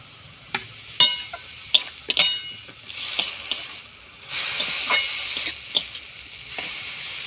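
Fried brinjal and beans tipped into sizzling khesari greens in a pan: scattered metallic clinks and scrapes, then a louder rush of hiss as they hit the hot oil, close with no talk.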